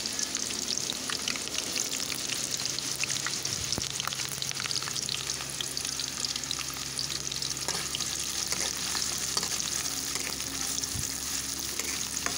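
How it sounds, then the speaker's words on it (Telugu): Chopped onion and green chilli pieces frying in hot oil, a steady soft sizzle with faint stirring throughout, no voices. "ఈ విధంగా ఆయిల్లో మొత్తంగా ఫ్రై చేసుకోవాలి."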